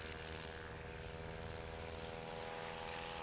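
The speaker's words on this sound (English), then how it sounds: "I'd imagine the Badlands Traveler with that Cessna wing has a good speed rate." A STOL airplane fitted with a Cessna wing flies past at a STOL qualifying competition, a steady droning propeller hum at moderate distance with no pauses.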